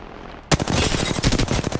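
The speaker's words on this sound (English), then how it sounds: "Opening fire." Rapid automatic R-301 rifle fire in the Apex Legends game bursts in suddenly after a quiet moment, a loud, close string of sharp cracking shots in quick, steady rhythm.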